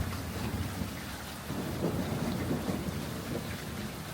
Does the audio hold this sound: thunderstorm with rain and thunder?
yes